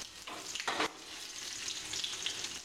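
Curry leaves crackle and sizzle in hot oil, with a sharp burst of spattering near the start settling into a steady, quiet frying hiss.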